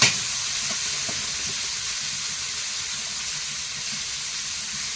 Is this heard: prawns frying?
yes